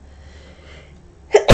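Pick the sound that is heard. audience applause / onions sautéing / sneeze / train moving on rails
sneeze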